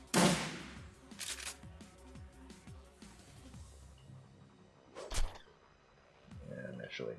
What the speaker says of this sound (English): I shoot you.